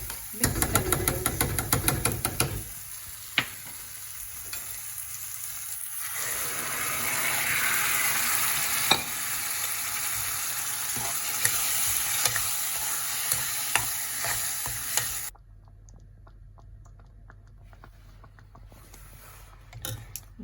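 Urad dal seasoned with coriander, cumin, chili and turmeric being stirred in a pan, with scraping spoon strokes over a soft sizzle that ends abruptly, leaving a quieter tail.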